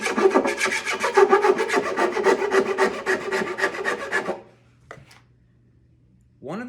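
A hand file rasps in quick, even strokes across hard maple binding being leveled on a guitar body, loud and close for about four seconds, then stops, leaving near silence with a couple of small knocks.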